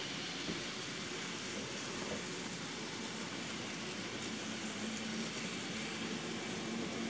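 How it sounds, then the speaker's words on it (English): A BNSF freight train locomotive rumbles on an outer main line, a faint, steady, distant hiss and low drone with no distinct events and no talking. "that is the BNSF Great Pumpkin second out on the outer main"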